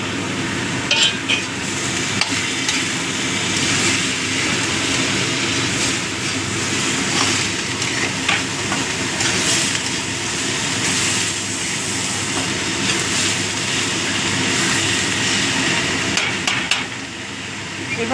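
Tomatoes go into a hot frying pan while cooking cauliflower bharta; a steady loud sizzle with scraping and stirring clatter runs throughout, close and continuous, with no talk.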